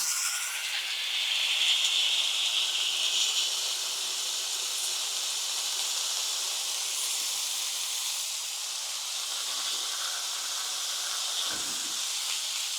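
Steady, bright sizzling hiss of smash burger patties frying on a hot Ninja Sizzle Pro XL griddle, continuous and fairly close, with no talking.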